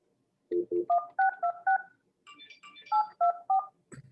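A telephone number is dialed on a keypad, a quick series of about a dozen clear touch-tone beeps in short bursts with a brief pause midway, close and clean with no talk.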